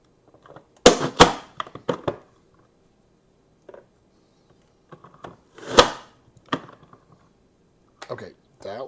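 Mueller Vegetable Chopper Pro pressed down through a tomato, loud sharp cracking snaps in two bursts with smaller clicks between, and a person talking in quieter gaps.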